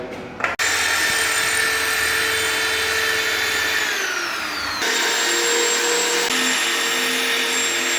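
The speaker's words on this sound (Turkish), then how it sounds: "Şimdi elektrik boğatının yeri delinecek." Power drill boring holes into a wall for an electrical box, a loud, steady whine throughout that shifts pitch midway as the bit works in, with no talk.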